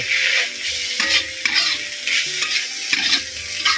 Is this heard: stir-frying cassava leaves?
yes